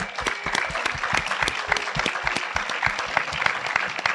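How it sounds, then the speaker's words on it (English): A warm round of applause from an audience at a film release celebration for the young cast, dense steady clapping with sharp individual claps standing out, close and sustained. "Can I get a little warm round of applause for those guys?"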